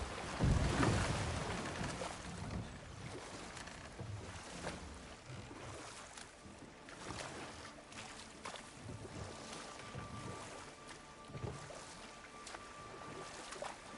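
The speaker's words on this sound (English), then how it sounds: "Waterfall. We're close." Rushing waterfall in the God of War video game, a steady broad roar of falling water that holds throughout with no talk over it.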